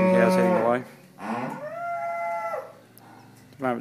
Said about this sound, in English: The milking cows heading away.